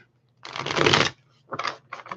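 A deck of tarot cards being shuffled: one long riffling burst followed by two or three shorter quick shuffles, close and clear in a quiet room.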